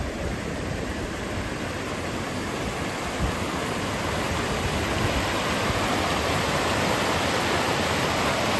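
Water pours over the small hidden Chundale waterfall in a dense, steady roar of broadband rushing that stays close and unbroken throughout.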